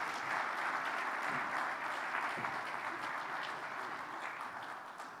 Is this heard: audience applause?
yes